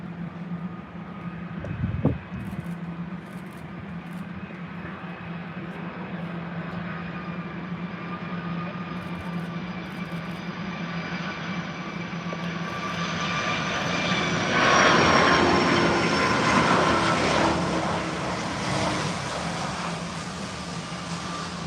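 A jet airliner in special livery passes at London Heathrow airport, a steady loud engine roar that swells toward the middle and holds on, with a brief thump near the start.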